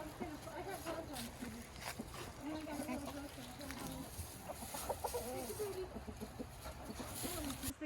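A rooster crows on a homestead among clucking chickens, its calls rising over steady, busy farmyard noise that fills the whole stretch.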